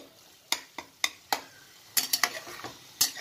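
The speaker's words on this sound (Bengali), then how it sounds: "মশলাটাকেও ভালো করে নাড়াচাড়া করতে হবে" A spoon scrapes and taps around a pan, stirring spice masala for a yardlong bean dish, with a string of distinct clinks over a faint sizzle.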